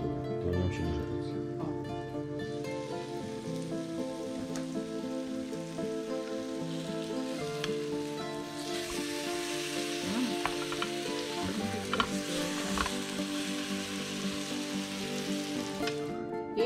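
Steady, dense sizzling of food frying in a pan, crackling continuously at an even level throughout with no voices.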